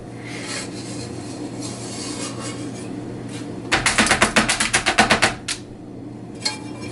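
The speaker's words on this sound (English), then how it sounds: "So now we'll bring the pan back over to see if we can scrape that." A utensil scrapes homemade fudge mixture from a pan, rasping in a rapid series of close, loud strokes over a steady background hum.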